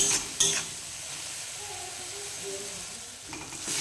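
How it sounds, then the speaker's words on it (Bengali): Masala of onion, salt and turmeric being fried and stirred for a potato and green pea aloo dum, a steady close sizzle with a couple of sharp spatula clinks at the start and a stir near the end. "এভাবে মশলাটাকে ভালো করে একটু কষিয়ে নেব।"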